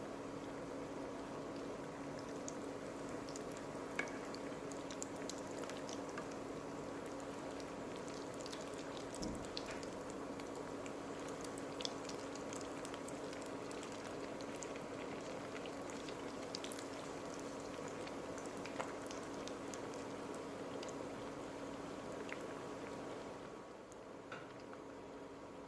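An egg cutlet fries in a pan with a soft, continuous sizzle and tiny scattered pops, faint and steady throughout with no talking.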